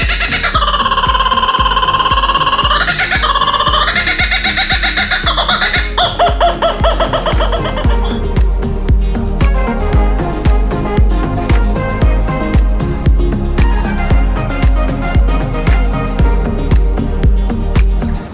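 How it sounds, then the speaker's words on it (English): Kookaburra in coastal Whitsundays bushland, Australia, giving a loud, close laughing call of rising, cackling bursts that starts strong and then breaks into rhythmic repeated chuckles lasting many seconds, with no talk. "Kookaburra!"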